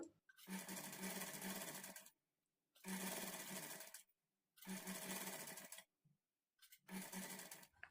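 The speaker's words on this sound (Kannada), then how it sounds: "ಈ ನೆಕ್ ಮಾರ್ಜಿನ್ ಅನ್ನೋದು ಸಹ ನಾವು ಕಾಲು ಇಂಚ್ ಅಷ್ಟೇ ಇಟ್ಕೊಂಡು ಸ್ಟಿಚ್ ಮಾಡ್ಕೊಳ್ತಾ ಬರಬೇಕು" A sewing machine stitches invisible thread piping around a neckline in four steady bursts of about one and a half seconds each, with brief silent pauses between them, close and clear with no talking.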